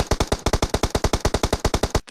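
Rapid automatic gunfire in a video game, a steady burst of about twenty sharp, loud shots in quick even succession, cutting off abruptly.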